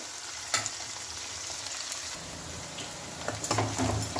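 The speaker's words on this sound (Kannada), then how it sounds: "ಈರುಳ್ಳಿ ಸ್ವಲ್ಪ ಎಣ್ಣೆಲಿ ಬೇಯಬೇಕು." Onions frying in oil in a pan for a Kannada home-style sabsige soppina uppitu, a steady soft sizzle with a few louder stir clatters near the start and end, no talking.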